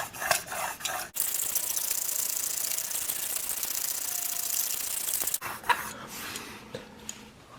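A Sevr broadhead is stroked over a sharpening stone to raise a burr, giving a steady close rasping rub that runs for several seconds between short pauses.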